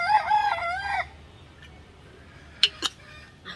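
Chickens call from outside the coop at a farm during cleaning. A loud crowing phrase comes first, then a quieter stretch, then two short sharp squawks near the end.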